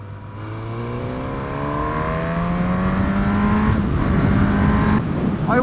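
A Suzuki GSX-S1000 motorcycle cruising at about 70 mph on a dual carriageway: a steady, loud engine drone with the pitch climbing slightly, and wind roar throughout, with no talking.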